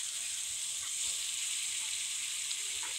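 Pangas fish lightly frying in hot oil with turmeric and salt, a steady, even sizzle with faint crackles, close and continuous without speech.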